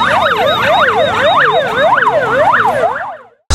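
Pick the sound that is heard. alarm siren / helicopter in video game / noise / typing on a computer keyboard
alarm siren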